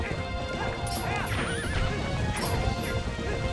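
Horses neigh loudly over the rapid clip-clop of galloping hooves in the video game The Legend of Zelda: Twilight Princess HD, with a dense, busy background throughout.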